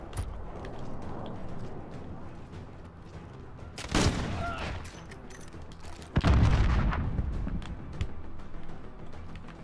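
Precision airstrike explosions in Call of Duty: Modern Warfare, a Headquarters multiplayer match, land as two heavy booming blasts amid scattered distant gunfire, the second impact deeper and louder.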